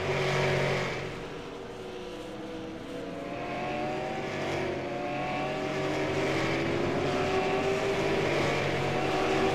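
Race cars roar around Martinsville Speedway in the MIRL Titus Family Racing 100, a sustained engine drone with rising and falling pitch as several cars pass, fairly loud and continuous.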